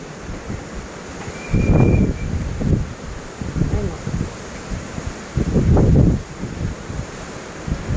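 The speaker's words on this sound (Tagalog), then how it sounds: "Lakas ng hangin." Strong gusty wind buffets the microphone in loud bursts, with rushing roar rising and falling, and faint voices underneath.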